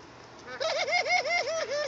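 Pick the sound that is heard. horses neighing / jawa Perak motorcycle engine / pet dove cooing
pet dove cooing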